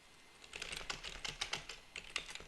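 Rapid typing on a computer keyboard, a close, steady patter of light key clicks in short bursts with brief pauses.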